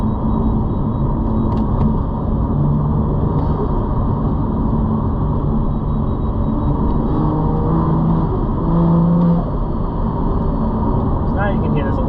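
In-cabin drone of a BMW M2 fitted with a Valvetronic Designs full exhaust, valves open: a loud, continuous low rumble with steady engine tone, unbroken through the stretch, no voices over it.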